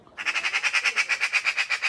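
A magpie sitting in a tree squawks in a fast, steady series of about fifteen harsh, rattling calls, loud and close, with no voices over it.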